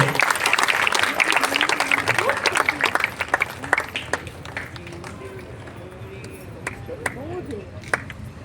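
A Yakshagana audience applauds at an honouring ceremony, loud clapping at first that thins out over several seconds, with a voice speaking over it and sharp percussive hits scattered throughout.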